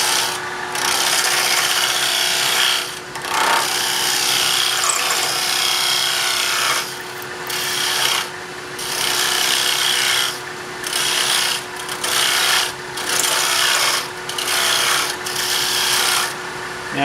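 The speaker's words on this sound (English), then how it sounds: "where I use this thin parting tool to take out some of the middle" A thin parting tool cuts into a spinning wooden knob on a lathe, making a steady, close scraping rasp that runs almost without a break, with brief dips where the cut eases off.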